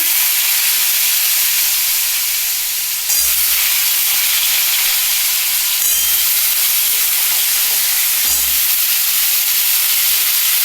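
Papaya pieces go into hot oil in a pan with garlic, giving a loud, continuous frying hiss with three brief surges of sizzle and low thumps as pieces drop in.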